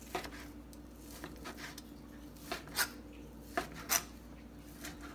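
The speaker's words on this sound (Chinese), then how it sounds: "我哋咧就將啲煙肉咧就切碎佢" Knife chopping bacon on a cutting board for homemade bacon jam, faint and irregular, with a handful of sharp taps and scraping strokes over a low steady room hum.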